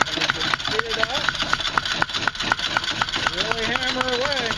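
A homemade bench-top power hammer running slowly and striking metal in planishing work: evenly spaced sharp knocks under a motor hum, with someone talking over it.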